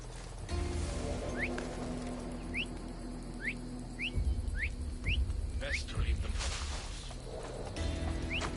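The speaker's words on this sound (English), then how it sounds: "Stop that whistling." Whistling in the video game Assassin's Creed Odyssey comes as a series of short, quick rising chirps, about eight evenly spaced, fairly faint within a rumbling ambient game soundscape with occasional thuds.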